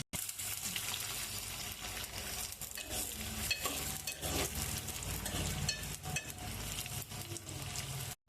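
Fish curry ingredients are stirred in hot oil, giving a steady loud sizzle and frying crackle with scraping stir strokes throughout and no talk.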